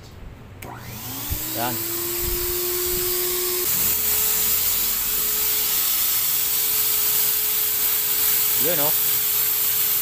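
A portable electric spray paint gun, used without an air compressor, runs with a steady motor drone and hiss that builds slightly and holds for several seconds. A voice speaks briefly over it.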